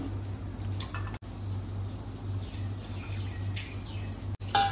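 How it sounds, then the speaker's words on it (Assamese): A little water is poured into a pot of pork with bamboo shoots, cooked in Assamese tribal style, in short splashy bursts over a low kitchen hum, with no talk. "অকণমান পানী দি দিছোঁ আৰু"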